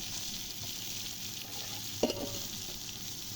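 Beef keema pulao being stirred in a pot with powdered spices, salt, red chili and turmeric, a steady soft sizzle with one brief scrape of the spoon.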